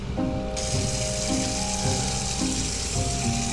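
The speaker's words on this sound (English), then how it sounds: "We fill this up with water without him realizing." Water runs steadily into a container in the Hello Neighbor Alpha 4 game, a continuous close hiss and splash with faint background music tones.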